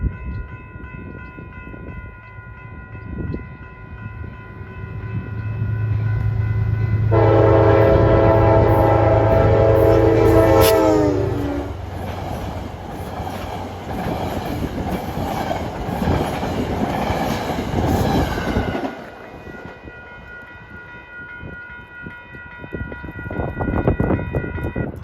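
A Metro-North express bound from Grand Central to Beacon roars past along the Hudson River on a chilly day, its horn sounding sustained and loud midway while heavy wheel and engine rumble swells, then cuts off abruptly as the train clears.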